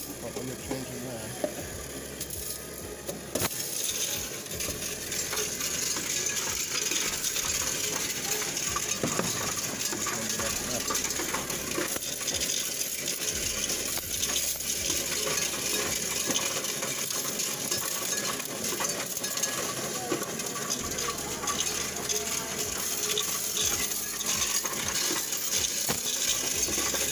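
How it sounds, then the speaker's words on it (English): Coins pour into a coin-counting machine in a long, continuous metallic clatter and rattle, steady and close-up throughout. "I'm still putting the coins in the machine"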